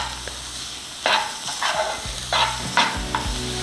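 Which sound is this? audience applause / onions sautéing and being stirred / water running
onions sautéing and being stirred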